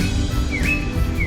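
Birds calling on a windy morning around 8:30, two short rising-and-falling chirps close by over a steady, low rumble of wind.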